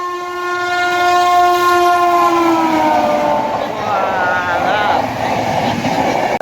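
An approaching train sounds its horn loudly in long sustained blasts, then the rumble and rattle of the passing cars build up close by.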